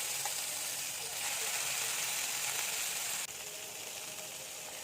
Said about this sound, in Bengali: তেল গরম হয়ে গেছে, এবার মাছ দিয়ে দিলাম। মাছকে এদিক সেদিক করে ভালো করে ভেজে নেব।